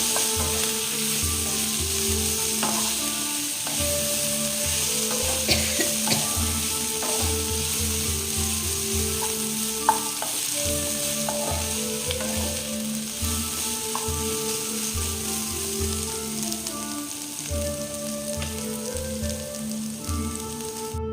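Vegetables for chow mein cook in a covered pan, giving a steady broadband sizzle with scattered clinks and rattles of the lid and utensils throughout, fairly constant in level.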